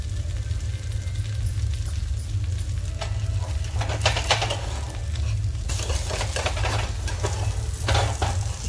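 An amaranth flatbread fries in ghee in a pan with a continuous close sizzle, broken by scraping and turning noises as it is flipped over.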